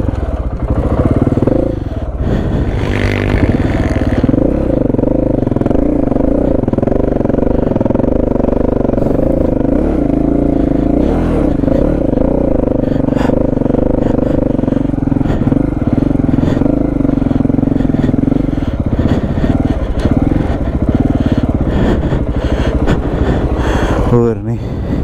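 A motorcycle rides through sand in high gear, its engine droning steadily and loud with a brief rev rise early on, continuous throughout with occasional clatter.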